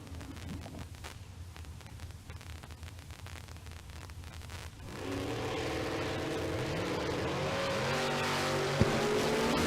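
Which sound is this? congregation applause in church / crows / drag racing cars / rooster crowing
drag racing cars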